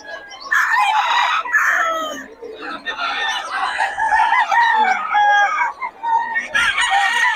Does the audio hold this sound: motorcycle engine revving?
no